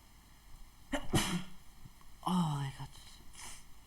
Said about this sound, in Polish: Kichnął.